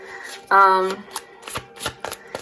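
A deck of tarot cards is riffled in one quick, close shuffle, followed by soft scattered card taps and handling, with someone talking over it.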